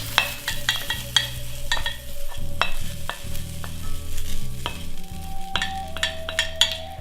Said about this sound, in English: Then we add the onions.